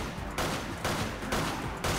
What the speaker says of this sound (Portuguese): Olha os tiros que eu tô errando, meu pai amado!